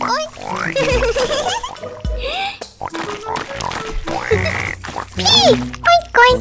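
Sung voices imitating pig oinks in a children's nursery-rhyme cartoon song, repeated in rhythmic phrases over bright music with melodic singing throughout, loud and close.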